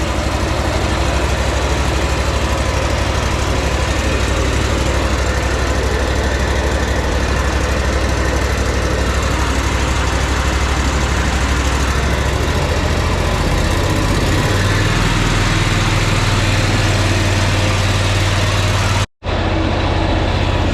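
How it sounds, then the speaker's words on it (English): A Wright Stander X lawn mower engine with a dirty aftermarket carburetor runs at about half throttle, a loud, steady close-up idle drone whose pitch shifts partway through before a sudden brief cutout near the end. "even though it's running, it's running fine at like half throttle, but when I put the throttle down, it wants to stall on me"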